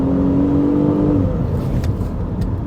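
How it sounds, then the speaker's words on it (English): A stock Mitsubishi Legnum VR4 engine pulls steadily under acceleration, a continuous close drone with a rising whine early on and no talk over it. "The engine sounds pretty good."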